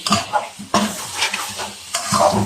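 Tomatoes and green chilies roast in a pan for a dhaba-style mixed vegetable dish, with loud scraping stirs at a steady rhythm over a low sizzle, close and without talk.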